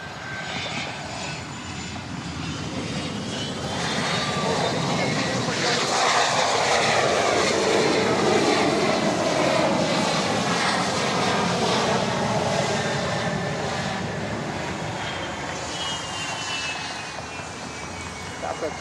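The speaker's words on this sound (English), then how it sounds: "Here comes a BizJet." An Embraer Praetor business jet, a FlexJet coming in at Dallas Love Field after dark, lands with a steady engine roar that swells over several seconds and then slowly fades while still audible. Radio chatter and voices run beneath it.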